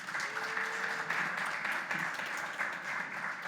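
An audience at an AOTech investor finale event applauds, a steady wash of many hands clapping at moderate distance, fairly soft, with a brief faint tone early on.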